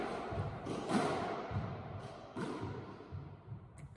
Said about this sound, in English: it's nice to finish on a few touch drop shots, trying to get one or two rolling out the nick